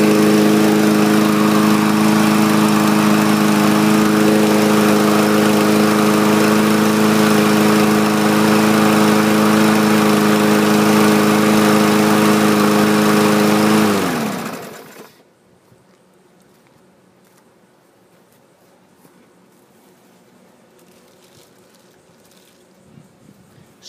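A Craftsman M110 lawn mower engine runs at a smooth, steady, loud drone with a constant tone, then winds down and cuts off about two-thirds of the way through, leaving near silence.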